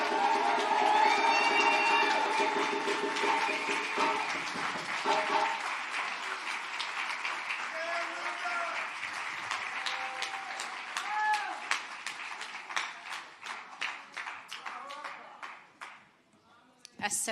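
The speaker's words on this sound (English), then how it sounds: "So please give a round of applause to my sister," A large crowd at a Malcolm X commemoration claps and cheers for a speaker, loud sustained applause with shouts and whoops that thins into scattered claps before fading.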